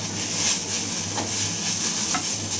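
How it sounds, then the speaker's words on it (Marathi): Three medium onions, sliced lengthwise, fry in a pan until reddish, giving a steady close sizzle with faint stirring scrapes and no voices. "आता त्याच्याकडे कांदा परतून घ्यायचा."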